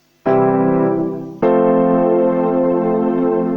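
A piano chord, the fourth diatonic chord, struck twice, the second strike a little over a second after the first and left ringing, with no voices.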